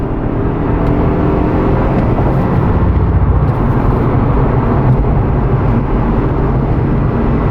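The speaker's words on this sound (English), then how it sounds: "Foot down to the pedal." A 2017 Lexus RC350 engine drones steadily and loudly throughout, a continuous low roar under hard, full-throttle acceleration with no speech.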